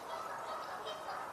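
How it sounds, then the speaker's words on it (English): Canada geese honk and call from in or near a pond, a dense, faint chorus heard from a distance over outdoor ambience. "I'm hearing Canada geese now sound like they're in or near the pond"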